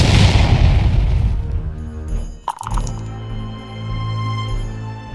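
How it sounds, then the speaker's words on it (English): A loud, rumbling explosion blast from a belcher cannon in a Warmachine battle between Orgoth and Protectorate of Menoth forces, a heavy booming roar that fades out, followed by a sharp crack and a low lingering rumble. "the tyrant let loose an explosion of death thundering out from his belcher"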